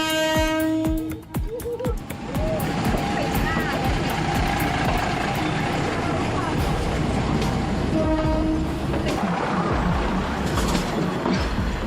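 A train runs on a railway in Thailand, sounding loud, harmonic horn blasts near the start and again around the eight-second mark over a continuous heavy rumble and clatter of rolling wagons.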